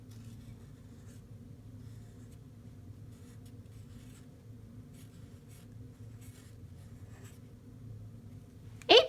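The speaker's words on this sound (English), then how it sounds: "So I am just going to use this Sharpie and write" A Sharpie marker squeaks and scratches faintly across a journal cover in short strokes over a low background hum, and a sharp rustle or knock comes at the end.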